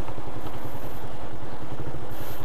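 A friend's motorcycle idles close by at a vehicle registration office in Valenzuela City, a steady low, lumpy engine rumble with regular pulses and some faint clatter throughout.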